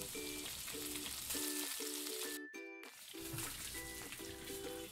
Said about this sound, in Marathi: आता फोडणी थोडी तडतडली की आता आपण ती चिकनवर घालूया